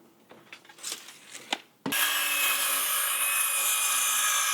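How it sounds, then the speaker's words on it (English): A few light knocks and handling sounds give way to a saw biting into a wooden decking board, its steady loud cutting noise running close and continuous to the end. "I'm going to cut this decking board to 3 feet"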